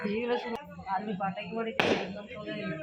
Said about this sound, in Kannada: ದೇವಸ್ಥಾನದ ಹತ್ರ ಪಟಾಕಿ ಹೊಡಿತಿದ್ದಾರೆ.